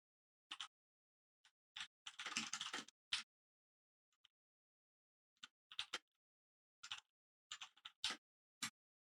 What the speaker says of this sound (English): Read what you're typing.